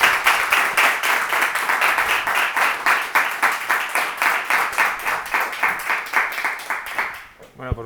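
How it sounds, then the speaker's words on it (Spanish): An audience applauds a professor at a Spanish-language academic lecture on economics and law: sustained, dense clapping with a steady rhythmic pulse, loud and close, running for several seconds before thinning out at the very end. "Solo les pido un fuerte aplauso para el profesor Rayo"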